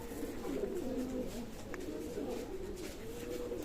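Fakirgul running-pair pigeons cooing softly and steadily in a loft, a low continuous murmur of coos with faint chirps over a quiet background.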